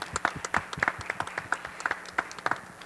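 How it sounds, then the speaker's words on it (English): A small audience at a school board meeting applauds the teachers, with sparse individual claps clearly separate and irregular, close by and moderately loud. "One more round of applause for all of our teachers and all the great work that they do"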